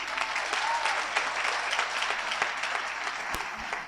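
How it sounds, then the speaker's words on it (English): Sustained audience applause at a school launch event, an even wash of many hands clapping heard at moderate distance, with faint voices mixed underneath. "Let's give her a round of applause again, please."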